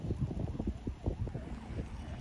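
Cool wind blows by a river in the rain, buffeting the microphone in steady low gusts close up, with no one speaking.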